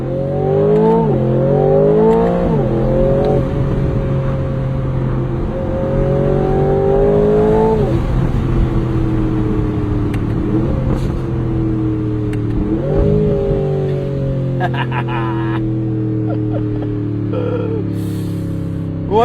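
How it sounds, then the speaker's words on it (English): A 2026 Aston Martin Vantage with its 4-liter M177 engine and open exhaust pulls hard in manual mode, its loud rising shriek broken by several sharp gear changes before climbing again, heard close from inside the car. "they do probably appreciate a shrieking Aston Martin Vantage"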